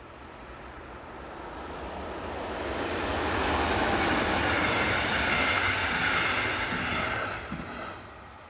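DB class 152 electric locomotive 152.022 coasting down a gentle grade with an eastbound hopper train on the Hannover–Magdeburg main line, a broad rolling rumble that swells as it draws near, holds steady, then eases off slightly at the end.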